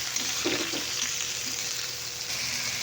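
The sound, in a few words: frying eggplant with turmeric and salt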